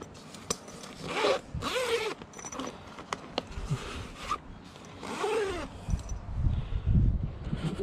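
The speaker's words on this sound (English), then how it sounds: "Another zip on this side." Zipper on a Kings 75L Stayzcool dual zone fridge's padded cover being pulled open in several long, close rasping strokes with brief pauses, plus some handling rustle.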